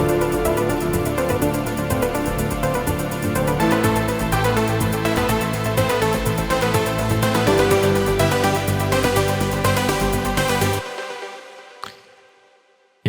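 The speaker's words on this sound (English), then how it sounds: "We are using the BS2 Filthy wavetable here to create this fake organ" Fake organ chords from a Serum synth patch built on the BS2 Filthy wavetable, playing a loud sustained progression of rich harmonic stacks for about eleven seconds before cutting off into a short decaying tail, with no voices.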